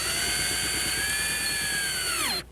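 A power drill or driver whines steadily for about two seconds while driving screws into a plastic skylight roof dome, close and loud, then spins down and stops abruptly.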